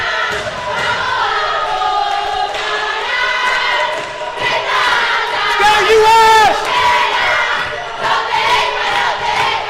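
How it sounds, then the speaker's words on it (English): Fans at a men's hockey final cheer and shout in a loud, continuous crowd roar. The noise swells and dips across the stretch and peaks in a burst of yells near the middle. "Hope you were able to hear the cheering from the fans."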